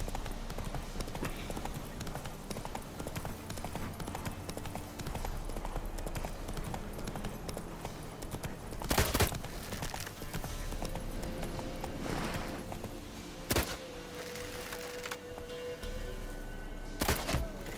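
Steady clip-clop of a mare's hooves trotting on and on in The Witcher 3, with a couple of louder thumps and a faint whinny in the mix.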